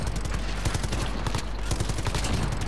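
Dense gunfire from the Call of Duty: Modern Warfare video game, with sniper rifle shots among rapid loud bursts from several weapons close by and no pauses.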